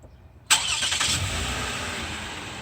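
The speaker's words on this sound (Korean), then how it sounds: "한 번 스타트 걸어보세요" A Lexus ES350 sedan starts up: after a quiet half second, the engine catches with a sharp burst and settles into a steady, fairly loud idle close by.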